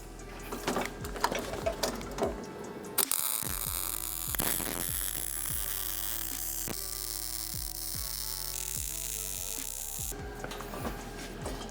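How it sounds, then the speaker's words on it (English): Steel tacks are welded on a DIY overland bed rack, giving a steady electrical buzzing hum with crackling bursts between quieter clicks and knocks, fairly close and without talk. "you're gonna wanna try your best to weld the front side first"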